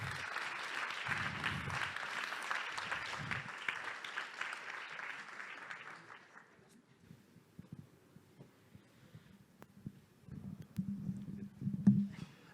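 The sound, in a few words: audience applause for guests on stage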